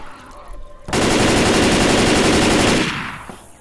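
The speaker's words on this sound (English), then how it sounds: "I'm gonna spell damn in gunshots." A sustained burst of rapid automatic gunfire in a video game roars for about two seconds, loud and close, then cuts off with a trailing echo.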